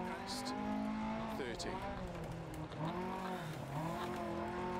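Front-wheel drive rally car engine in Dirt Rally 2.0, revving loudly and continuously with rising and falling pitch through gear changes, with tire noise and someone talking over it.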